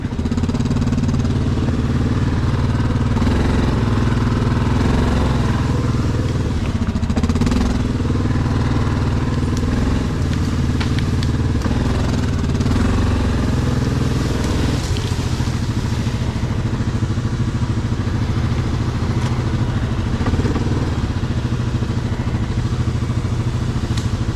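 Yamaha Grizzly SE ATV engine running steadily close by while backing up in 4-wheel drive, a continuous mid-pitched rumble with some clatter and crackle, no talking.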